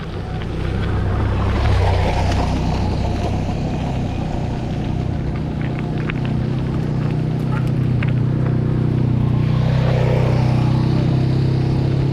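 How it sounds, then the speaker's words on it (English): A motorbike comes up from behind on a bush road toward Harry's Hut by the Noosa River, a steady engine drone mixed with strong wind rush, growing slightly louder near the end. "So we have a motorbike coming up behind us, or at least one."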